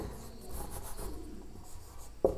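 Chalk scratches and taps across a classroom board in short strokes, quiet and close, ending in a sharper knock.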